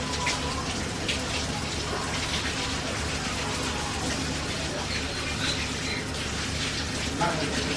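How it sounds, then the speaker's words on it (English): Steady tap water runs continuously while sweet potatoes are rinsed and scrubbed under it in a kitchen sink, a close, even splashing wash with no pauses. "I just rinse off my potatoes by just giving them a little scrub"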